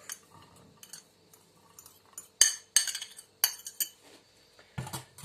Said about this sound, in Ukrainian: І так, більшу ємність я відправляю творог.